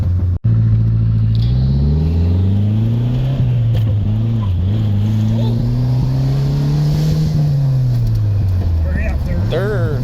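A 1985 Dodge Charger drives along a rough road, its engine droning loudly and steadily with rising and falling pitch as it revs, over bumps and rattles, with people talking over it.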